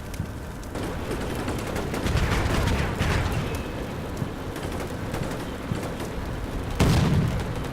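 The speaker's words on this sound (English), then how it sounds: "it looks like we're taking some artillery fire, enemy artillery fire there" Enemy artillery fire in the war game Combat Mission Black Sea: a continuous, rain-like rumble of distant impacts and crackle, with heavier bursts swelling around the two-second mark and again near the end.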